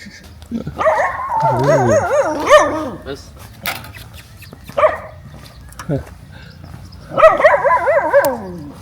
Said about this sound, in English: what are you barking about, buddy?